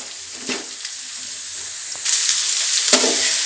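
Onions fry in a pan for tomato chitranna, a close, steady sizzle broken by a few scraping stirs of the spatula, growing louder partway through.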